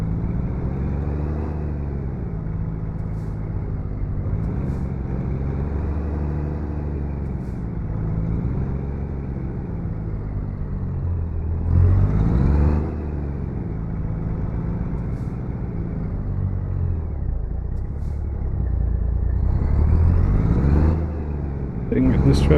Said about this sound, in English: Get this truck up to speed.